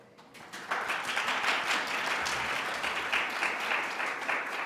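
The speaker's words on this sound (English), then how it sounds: "we will honor you with applause" A church congregation at a Unitarian Universalist service breaks into sustained applause, a dense wash of many hands clapping that rises quickly and holds steady for several seconds, moderately distant in a large room.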